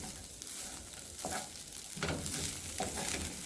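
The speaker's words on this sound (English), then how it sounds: "you start like scraping the bottom and you can hear that it's dry" A wooden spoon scrapes repeatedly across a dry pan bottom as rice toasts, soft gritty strokes over a faint sizzle, close by.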